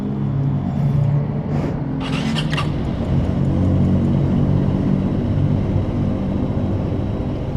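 An Aveta Nova 250 scooter engine starts and runs at a steady idle, giving a low, close rumble with a few sharp clicks and knocks early on and no voices.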